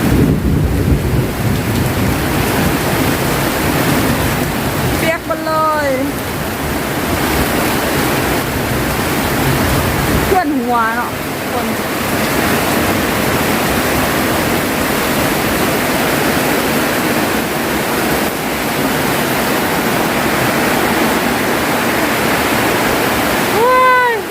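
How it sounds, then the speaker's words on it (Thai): Heavy downpour on a rainy day in Thailand, a loud continuous roar of rain with thunder rumbling and cracking now and then, and faint voices talking under the noise. "ฝนตกหนักมากเลย"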